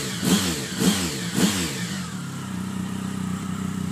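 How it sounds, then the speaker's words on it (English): A 2011 Triumph Speed Triple three-cylinder motorcycle with its stock exhaust revs three times in quick succession, each blip a short low rumble, then settles into a steady, muted idle. "there isn't much of an exhaust note, just more of a low rumble."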